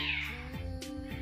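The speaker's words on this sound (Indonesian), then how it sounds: "ada suara kucing." A cat meows softly indoors, giving two or three faint, short calls over a low steady background hum.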